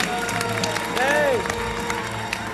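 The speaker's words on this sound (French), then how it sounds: "Un tonnerre d'applaudissements pour nos vainqueurs du jour, les Castels" Studio audience applauding and cheering the day's winning team on a French children's game show, a continuous dense wash of clapping with a whistling tone and someone speaking over it.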